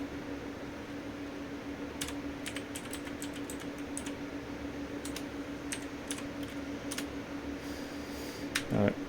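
Light clicking bursts of typing on a computer keyboard come in short irregular runs over a steady fan hum, with a brief louder rustle near the end.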